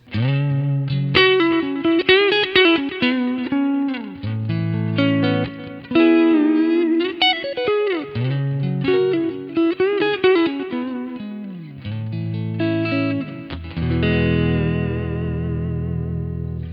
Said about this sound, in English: This is a clean Fender Twin Reverb sound. It sounds like this.